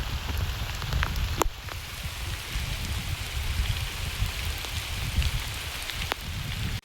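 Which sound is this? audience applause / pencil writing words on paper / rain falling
rain falling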